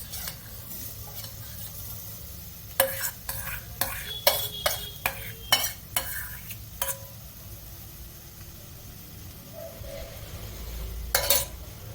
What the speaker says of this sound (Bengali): ভেজে নেবো আলুটা ভালো করে ভেজে নেব